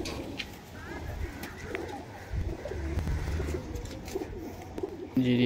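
Giribaz high-flyer pigeons coo in low, repeated murmurs at close range in a loft in Liluah, Howrah, with rustling and a louder sound at the end.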